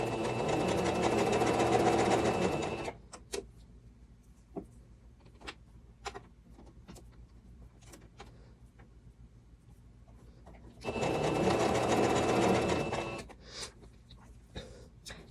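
A sewing machine runs steady stitches through stretchy linen-blend fabric, sewing on bias binding, in two loud sustained bursts separated by a quiet stretch of small handling clicks and taps.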